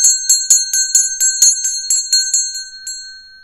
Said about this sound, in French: On va sonner la cloche.